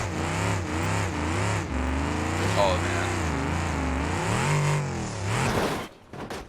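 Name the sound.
damaged car engine revving in BeamNG.drive video game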